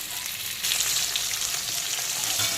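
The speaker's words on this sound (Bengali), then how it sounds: "যে কারণে আমি কাঁচকলাগুলোকে আলাদা করে ভাজবো।" Green bananas frying in oil in a pan: a close, steady bright sizzle that swells slightly after a moment and keeps crackling evenly throughout, with no voices.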